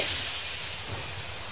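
In the video game They Are Billions, a train arrives at the station with a steady, broad steam hiss over a low rumbling undertone, continuous and fairly close.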